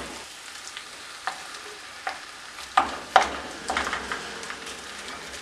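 Cooked tapioca and sardines are mashed and mixed in a pan, giving soft, irregular scraping and squishing knocks at close range, growing busier toward the end.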